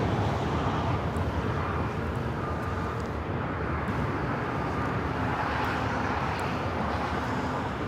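A Cathay Pacific Boeing 777-300ER, flight 885 to Hong Kong, takes off at Los Angeles airport with a steady, broad jet roar. The roar holds at an even level for the full eight seconds and sounds fairly distant.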